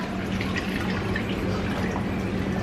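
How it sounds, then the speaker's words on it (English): Water pours steadily into a pan of rice, a continuous splashing gurgle with faint drips, close by and without speech. "Now we are going to put our water."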